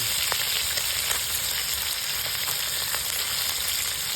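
Steady crackling sizzle of food frying in hot oil over a wood fire, close and continuous, with small pops scattered throughout.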